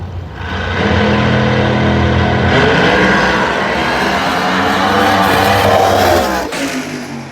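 Drag race cars roar hard down the strip at a round-one event, a loud sustained engine howl with rising pitch through gear changes, filling the whole stretch without speech.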